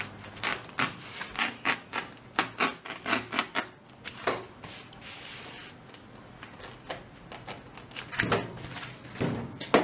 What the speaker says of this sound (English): Let's get on with cutting then.